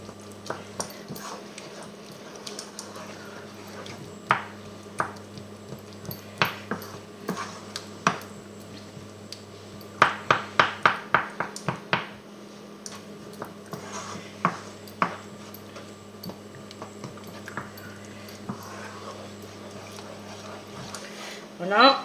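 Roquefort is stirred into a pan of mussels until it melts, giving repeated clinks and scrapes of a utensil against the pan, some in quick bursts, under ongoing talk.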